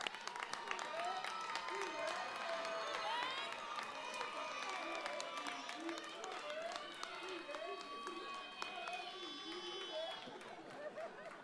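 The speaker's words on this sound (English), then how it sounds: "Let's give everyone a round of applause" Audience at a graduation ceremony applauds steadily, a dense wash of many hands clapping with some cheering and chatter mixed in, sustained and even throughout, heard from within the crowd.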